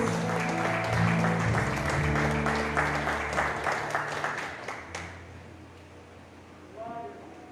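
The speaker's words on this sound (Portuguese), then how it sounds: "Uma salva de palmas para o Senhor Jesus." A church congregation claps loudly and steadily for about five seconds over sustained instrumental tones, then the clapping stops abruptly, leaving quieter room sound and a faint voice.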